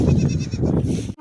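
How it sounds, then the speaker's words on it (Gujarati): Goats bleat close by at a village pen, a loud, wavering, nasal cry sustained for about a second before cutting off abruptly. "આમાં બકરા પૂરા હશે"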